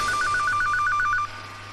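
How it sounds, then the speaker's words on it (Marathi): A telephone ringing with a rapid, regular electronic trill of about ten pulses, loud and close, then stopping abruptly. "अरे फोन वाजायला लागलाय."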